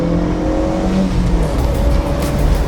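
A cheap project car's engine revs hard toward the rev limiter while cornering on a country road. The loud, close drone rises and falls under heavy wind noise.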